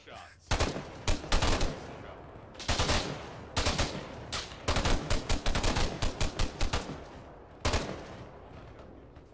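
Automatic weapons fire suppressing enemies in the military game ArmA 3 comes in loud, rapid bursts, several long strings of shots separated by brief pauses, close and dominant throughout.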